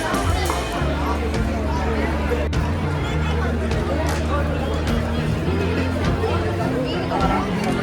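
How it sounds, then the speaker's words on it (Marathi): A crowd of people at Mahabaleshwar chatter all around in a steady, busy babble, with nearby voices speaking over the general hubbub. "इथे लोक खूप गर्दी आहे बघू शकता तुम्ही इथे."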